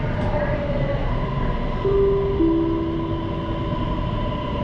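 Onboard a Bangkok MRT Blue Line metro train at Bang Phlat station, a steady rumble of the carriage is heard with rising and falling electric motor whines sliding through a couple of pitches.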